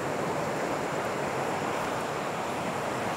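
Heavy floodwater rushes through a mountain stream gully beside a spillway in the highlands, a loud, steady, broadband roar that fills the whole stretch without a break and with no voices over it.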